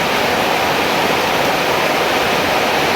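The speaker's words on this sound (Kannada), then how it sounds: "ಬೆಳಗಿಂದ ಹೀಗೆ ಇದೆ ಮಳೆ." Heavy rain has been pouring since morning over flooded paddy fields. It makes a dense, unbroken roar of falling water, loud and even from start to finish.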